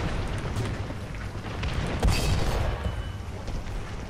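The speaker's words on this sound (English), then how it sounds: "Come on, aim, fire!" A tank cannon fires in War Thunder ground battles, one heavy boom about halfway through rising over a constant rumbling engine and battlefield din, loud and close.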